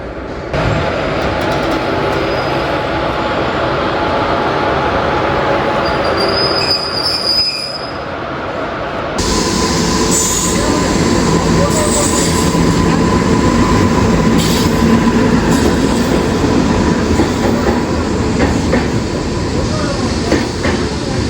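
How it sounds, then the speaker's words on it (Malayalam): Vijayawada shed WAP-4 locomotive 22685 arriving at Mangaluru Junction to haul the Mumbai CSMT superfast, loud close rumble of wheels and rail noise with squealing flanges, a brief lull then heavier rolling clatter. "മംഗലാപുരം ജംഗ്ഷൻ CSMT സൂപ്പർ ഫാസ്റ്റിന് പോകാനുള്ള ലോക്കോ പെട്ടെന്ന് തന്നെ കൊണ്ടുവരുന്നുണ്ട്"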